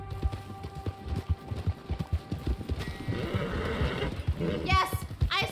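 Horse in Red Dead Redemption 2 galloping with steady clip-clop hoofbeats, then whinnying loudly near the end, with game sounds and a voice over it.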